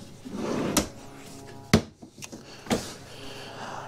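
Cabinet drawers in a 2024 Keystone Bullet 260RBS travel trailer pulled out, giving several sharp sliding knocks and thumps spaced apart, close by with low room noise between.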